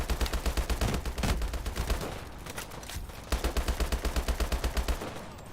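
Automatic gunfire from a full magazine dump in Call of Duty Advanced Warfare, loud rapid bursts with a short pause in the middle before another sustained rattling stream.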